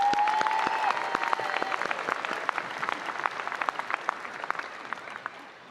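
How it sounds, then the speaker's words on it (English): Graduation audience at a high school ceremony clapping, a broad crowd applause with distinct sharp claps standing out, strong at first and gradually tapering off. "Let's give them a big round of applause for doing such a great job."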